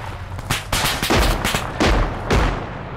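Gunfire in ArmA 3 during a Humvee ambush: a string of loud, close shots and short bursts crack out at irregular intervals over about three seconds, with no talking.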